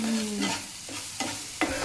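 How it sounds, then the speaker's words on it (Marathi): Tomato, ginger, coriander and garlic paste sizzles in hot oil, with three quick scraping stirs of a spoon sounding close and clear over a steady fry. "टमाटर आलं कोथिंबीर आणि लसूणची पेस्ट आहे ती चांगली भाजून घ्यायची"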